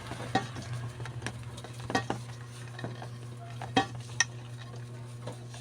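Filling ingredients for Spanish bread are mixed by hand in a bowl, giving soft irregular clicks and taps close by over a steady low hum, with no talking.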